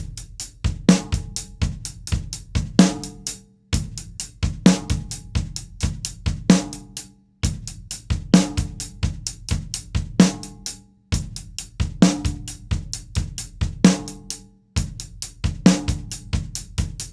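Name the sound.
drumset ostinato, offbeat 16th notes on bass drum with hi-hat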